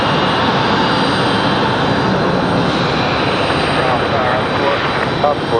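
An Air Canada airliner taxis to the gate at Raleigh-Durham airport, giving a steady, loud engine rumble and whine that holds throughout, with a voice briefly heard under it.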